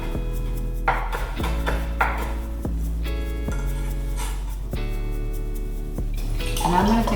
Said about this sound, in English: the recipe calls for me to mince my shallots, my anchovy, and chop my basil,